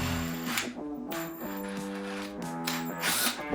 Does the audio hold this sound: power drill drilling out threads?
yes